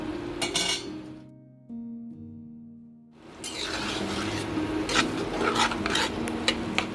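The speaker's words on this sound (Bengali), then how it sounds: "এবার আমি ভালো করে নেড়ে মিশিয়ে নেব" Stirring and mixing kochu shak with salt in a pan, spoon scraping and clinking against the pan in continuous irregular strokes, close and moderately loud, after a brief musical interlude.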